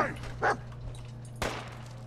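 A dog in a video game barks a couple of short, sharp times at close range, with a quieter yelp in between, over a low steady background hum.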